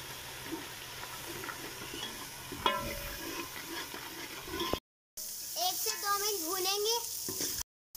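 Red lobiya curry sizzles and fries in a pan while being stirred, a steady close crackle broken by a brief silence, with a voice talking over the later part.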